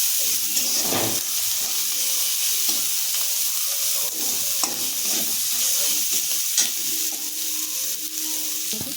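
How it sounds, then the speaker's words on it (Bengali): Onion and chilli fry in hot oil while being stirred, producing a loud, steady sizzle broken by repeated scraping strokes of a spatula in the pan. "পেঁয়াজটা ভেজে নিয়েছি হালকা করে"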